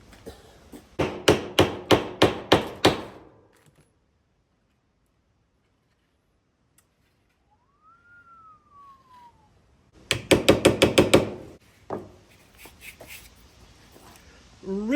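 Hammer blows setting rivets into a knife sheath on a workbench in a shed, two quick bursts of about seven sharp, evenly spaced strikes each, close and loud, separated by a quiet stretch with one brief rising and falling tone.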